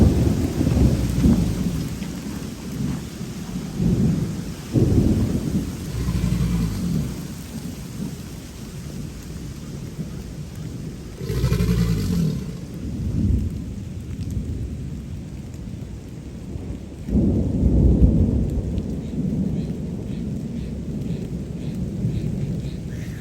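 A thunderstorm with steady rain hissing throughout, low rolling thunder rumbling in several waves, swelling loudest near the end.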